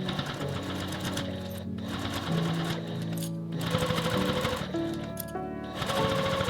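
Sewing machine stitching a narrow strip of fabric for a small coin pouch, a steady close mechanical whir that runs in short bursts with brief pauses, holding a continuous rhythmic hum throughout.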